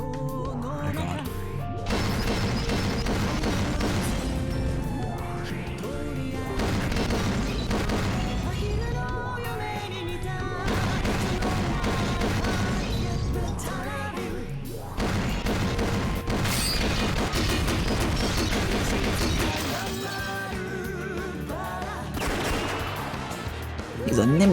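Gunfire crackles through a chaotic shootout, with sharp shots and crashes packed densely into swelling music and urgent shouting voices for the full stretch.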